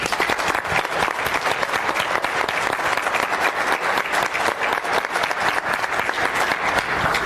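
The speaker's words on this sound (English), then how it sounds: "if you can join me in a round of applause for the Embassy and for COMEXI as well for partnering with EDC" A conference audience at an economic forecast event claps in a dense, sustained round of applause, many hands at once, steady and fairly close.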